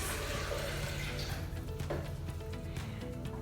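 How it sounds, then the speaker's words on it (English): Chilled water pours in a soft, continuous splashing stream into a Vitamix blender jar, faint and uninterrupted, with no talking. "So I'm just gonna pour that into my Vitamix."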